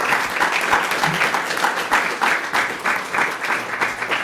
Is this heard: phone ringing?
no